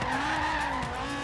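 An American car with a big engine and added spoilers brakes hard in the Forza Horizon 3 video game, its tires giving a loud, sustained squeal over a low engine rumble.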